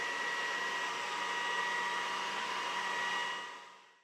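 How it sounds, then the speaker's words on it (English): A laser engraver's cooling fan: a loud, steady whirring drone with a faint high whine, then winding down and fading out near the end. "this fan is gonna be also quite loud"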